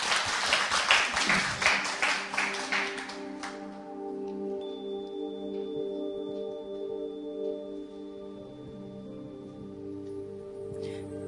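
Audience applause at a Korean poetry reading and talk with a poet: dense clapping for about three seconds that cuts off into sustained soft musical tones.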